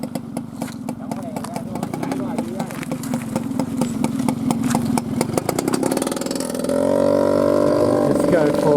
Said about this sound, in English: Let's go for a little bike ride.